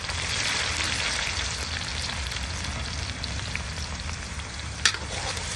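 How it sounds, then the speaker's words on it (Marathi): Chopped garlic, green chili and finely cut onion frying in a pan, a continuous close hiss and crackle like light rain, with one sharp tap near the end and no talking. "व्यवस्थित फ्राय करून घेऊ आपण 5 मिनिट।"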